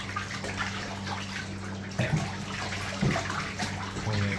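Pet birds bathing and splashing in a bathtub, giving a steady watery wash with a few louder splashes every second or so, close by and with no talk.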